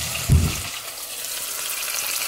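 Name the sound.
cardamom, cinnamon, cloves, fennel and fenugreek frying in oil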